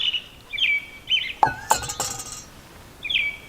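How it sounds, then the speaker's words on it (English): A robin sings on a camping morning outdoors, several bright chirping phrases spaced out at moderate distance, with a few sharp clinking taps in the middle. "That's a robin."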